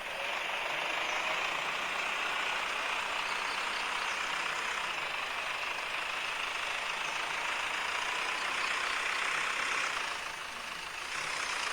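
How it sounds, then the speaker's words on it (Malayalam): A JCB backhoe's engine runs steadily in a video game, a continuous broadband drone with some mechanical whine, loud and close, holding nearly constant throughout with no talk. "നമുക്കിനി ഈ JCB ഓടിച്ചു നോക്കാം."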